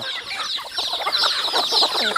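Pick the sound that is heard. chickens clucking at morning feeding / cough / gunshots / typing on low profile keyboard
chickens clucking at morning feeding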